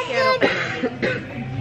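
A man coughs a couple of times at close range during a family café meal, short rough bursts with people talking around him.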